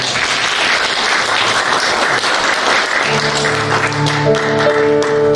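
A crowd at a political party's founding convention applauds in a steady, dense wash of clapping that holds loud throughout, while sustained music tones rise beneath it in the second half.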